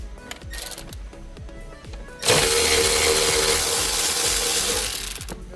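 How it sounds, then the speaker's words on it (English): T20 Torx screws are backed out of a Mini Cooper dashboard, starting with a run of rapid ratcheting clicks and then a sudden loud, steady mechanical whirr that holds for several seconds before cutting off, with no one speaking. "I'm gonna start taking these T20 Torx out."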